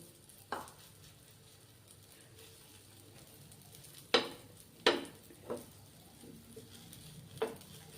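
Rice flour vegetable pudla fry in hot oil on a pan over medium gas, a soft continuous sizzle broken by several sharp scraping taps and spatula clacks, close and fairly quiet.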